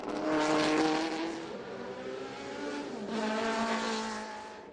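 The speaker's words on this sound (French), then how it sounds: "Une autre Alpine, une A220 de 1969." A 1969 Alpine A220 race car at the Le Mans Classic passes by loudly, its engine note rising and sweeping through a Doppler shift, then a second surge of engine roar follows as the sound fades into the distance.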